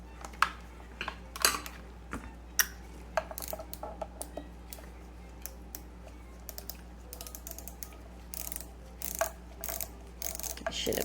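A ratchet ticks and clatters as screws are backed out of the faceplate of an 1800s Household antique sewing machine, with scattered close metallic clicks, pauses and small knocks.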